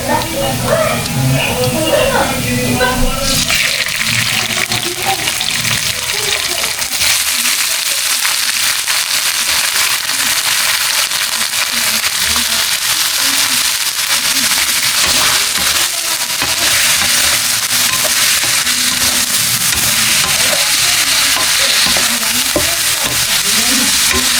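Meat hits a hot pan and fries with a loud, steady sizzle and crackle that runs throughout, with stirring scrapes mixed in.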